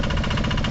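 A rot tai sing, a Lao-style farm tractor used as a road vehicle in the countryside, its engine chugging steadily and close with a dense knocking idle rhythm that stays constant, with no voices over it.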